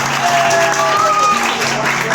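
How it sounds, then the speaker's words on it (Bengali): A school audience at Mojar School breaks into loud, steady applause, a dense wash of clapping that lasts throughout, with faint voices and a few tonal whistles mixed in. "সকলের জন্য জোরে করতালি।"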